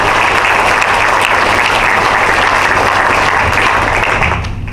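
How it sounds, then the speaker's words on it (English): A large audience claps continuously at a DLA Bahrain change of command ceremony, a loud, dense and steady round of applause that fades slightly at the very end. "Let's give them both another hand clap."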